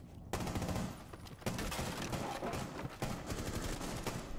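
Rapid bursts of gunfire in Rainbow Six Siege: dense, loud automatic shots that crack repeatedly over several seconds, with sharper bursts recurring and no voices.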